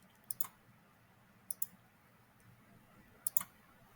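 Computer mouse clicks come in three quick pairs as points are traced at corners of a shape in layout software, each pair crisp and close, separated by quiet pauses over a faint hum.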